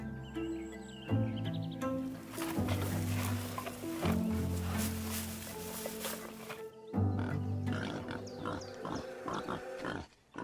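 An African warthog grazing among savanna shrubs gives repeated low, rough grunts in short bursts, close and fairly loud, with a narrator's voice over part of it.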